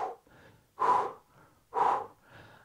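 Heavy, labored breathing follows a core-strengthening ab hold, with two strong, loud exhales separated by softer, raspy inhales, close and with no speech.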